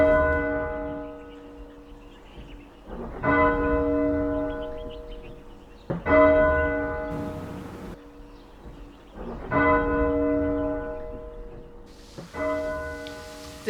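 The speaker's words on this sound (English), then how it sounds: "The tolling bell, saddest of all sounds." A deep church bell tolls slowly, four or five heavy strikes spaced a few seconds apart, each ringing out and fading before the next.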